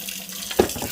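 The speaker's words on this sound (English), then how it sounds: "and I'm going to fill it with water" A pot being filled with salted water from a kitchen tap, a short gushing splash of running water with a brief sharp burst partway through.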